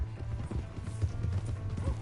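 Horse hooves clip-clop steadily on the ground in the Red Dead Redemption 2 video game, a continuous rhythmic trot at close range with a faint whinny mixed in.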